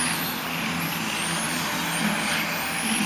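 Electric motors of 17.5 RC racing cars in an A-main at Jackson RC Racing drone steadily, with high-pitched whines rising and falling as the cars pass. The wash of noise is continuous and moderately loud, and no voices are heard.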